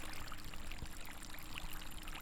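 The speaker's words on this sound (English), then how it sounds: "I got a waterfall over here." Steady rushing splash of a pool waterfall, continuous and fairly even, with a bright hissy texture and no voices.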